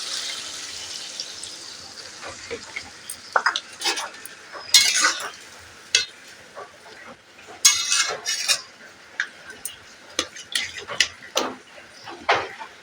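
Water poured into a cooking pan of snail curry, followed by clinks and clatter as a metal lid is set on, close and fairly loud with scattered scraping in bursts.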